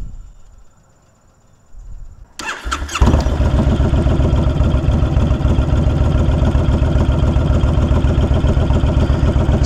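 A 2020 Honda Fury motorcycle is quiet at first, then its engine fires up after about two seconds and settles into a loud, steady, close idle with a rhythmic V-twin pulse.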